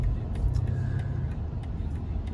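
A car accelerates on the highway to get back up to speed, its engine and tire rumble loud and continuous, with faint tonal beeps from the driver assistance system heard near the start.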